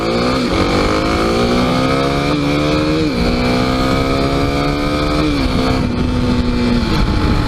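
A Kawasaki KLX300 dirt bike ridden at highway speed, its single-cylinder engine giving a loud, steady drone with gentle shifts in pitch, under strong constant wind roar.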